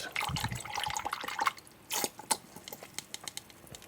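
Liquid Biorizotonik fertilizer being dosed at 1 ml, with a brief pour and small liquid splashes followed by a few faint scattered drips, heard close in a quiet room.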